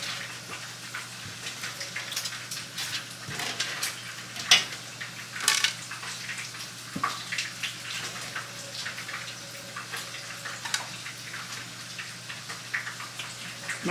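Water runs steadily from a tap while a cooking pan is scrubbed clean, with occasional clinks and knocks of metal cookware breaking through the continuous splashing.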